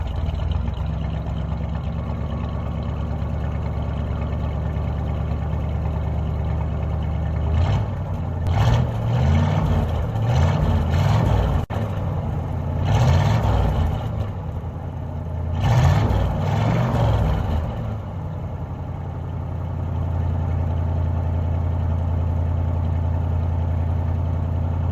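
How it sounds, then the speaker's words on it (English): A 1982 Ford LTD with a 351 Windsor V8 and true dual exhaust idles with a steady rumble, then revs several times in quick bursts, then settles back to a low idle. "I'll actually put a clip of this thing revving up a bit right now."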